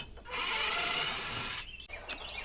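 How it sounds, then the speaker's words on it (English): A power drill boring holes through a Kreg pocket-hole jig during a deck railing build, one loud sustained whine of about a second with short quieter bursts around it, close up. "I brought my Craig jig so you can drill nice holes on stuff."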